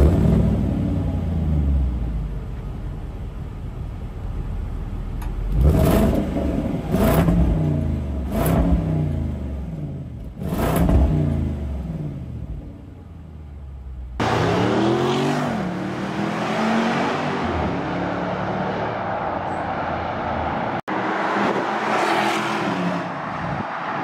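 A Land Rover Defender V8 engine revs hard several times, with sharp rising and falling blips, then pulls away loudly in a sustained acceleration with gear changes, close and alone without talk.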